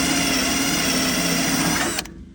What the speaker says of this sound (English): drill out the old rivet